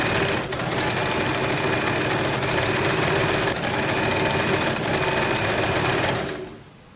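A sewing machine runs a continuous quarter-inch seam joining a blouse front piece, its fast, even mechanical whir holding steady for several seconds before cutting off near the end.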